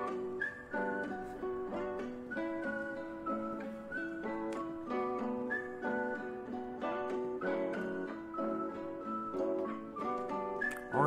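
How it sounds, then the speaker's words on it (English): A light, melodic whistled line weaves through a music video track, repeating short phrases over steady backing music at an even, moderate level. "I like the little whistling."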